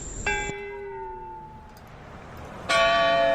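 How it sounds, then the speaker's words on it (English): A Christchurch church tower bell tolls the time of day, striking with a ringing tone that slowly fades, then a second loud strike rings out near the end. "That beautiful sound you're hearing is Christchurch's tower bell, toning out the time of day."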